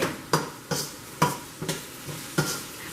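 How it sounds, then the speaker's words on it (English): Onions sautéing in a pan while a utensil scrapes and taps the pan in an uneven rhythm of about eight sharp strokes over a faint sizzle, close by. "I'm sauteing the onions."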